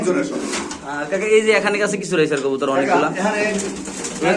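Racing pigeons coo at a seller's stall, soft throaty calls repeating close by while several people talk over them throughout.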